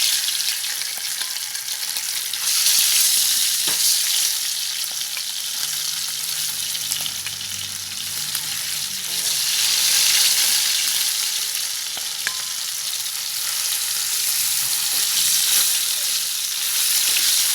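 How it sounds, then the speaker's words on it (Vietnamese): Steady, loud sizzling of seitan frying in a hot pan, with occasional stirring and scraping, continuous throughout without talk. "giờ mình sẽ chiên mì căng luôn"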